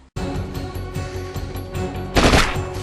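Rapid gunfire from a weapon in the game The Terminators, a dense run of repeated shots with a louder burst near the end, no talk over it.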